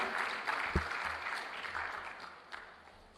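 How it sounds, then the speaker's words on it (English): Faint, distant applause from the audience at the RJR Gleaner Communications Group annual general meeting, a soft continuous patter that slowly fades. "Give him a round of applause, man"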